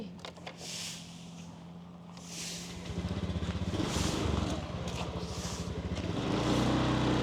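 A rented motor scooter is ridden along roads in Thailand, its small engine buzzing and picking up pace under rushing wind noise as the ride gets going.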